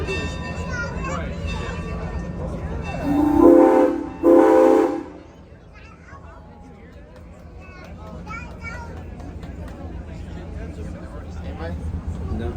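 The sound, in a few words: 1927 passenger locomotive at train festival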